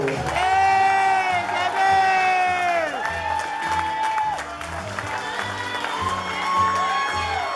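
Wedding guests clap and cheer as a crowd, with applause and shouts blending under loud, sustained tonal music.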